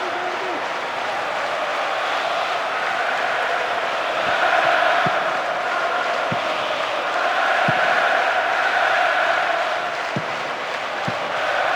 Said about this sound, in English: I have to say the crowd is adding to this as a spectacle.